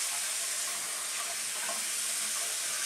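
Tap water streams steadily as a make-up brush is rinsed under it, a soft, continuous hiss of running water with no speech.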